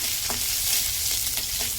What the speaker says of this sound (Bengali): তেলের মধ্যে সাদা জিরে আর কাঁচা লঙ্কা দিয়ে দিলাম